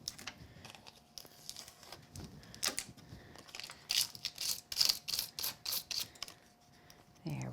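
Tape peeled in short ripping bursts off a die-cut card and its craft-paper bits, several quick crackly pulls in a row at close range with little else around.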